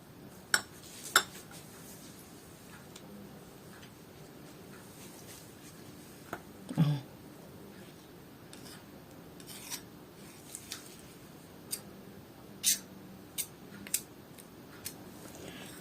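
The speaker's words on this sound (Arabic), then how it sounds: "ده كله بقى هنقلبه في بعضه، هنقلبه في بعضه يا حبايبي كويس جدا" A spoon stirs a honey, lemon and oil mixture in a bowl, giving faint scattered clinks and taps at an irregular rhythm over a quiet background.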